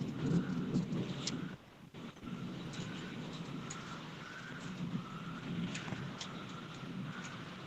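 Steady rain pours at an outdoor spot in Indonesia, a broad constant hiss with low rumbling swells like distant thunder running throughout, no voices.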